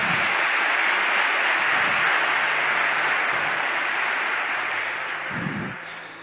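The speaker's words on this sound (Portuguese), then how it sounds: "a Deus uma salva de palmas." An audience applauds loudly and steadily for several seconds before the clapping gradually fades out, with a brief hum and a few murmurs underneath.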